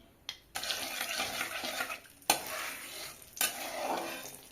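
Turmeric powder hits hot oil in a wok with sudden bursts of sizzling and spattering, a few sharp onsets that each flare up loudly and then settle into a softer crackle, close by with no talk.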